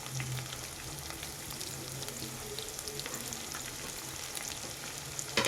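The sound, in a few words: small sliced onions frying in a pan with garlic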